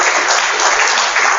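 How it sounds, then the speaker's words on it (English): An audience at an academic theology lecture breaks into dense, sustained applause, many hands clapping at once in a loud, even wash with no distinct individual claps and no voices on top. "I think both of us we could deserve an applause."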